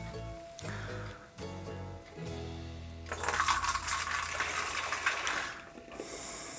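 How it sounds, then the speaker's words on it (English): Water poured into a homebrew beer fermenter, a steady broadband rush of liquid that swells louder midway and continues for several seconds, close by with no talk. "so I can pour water in."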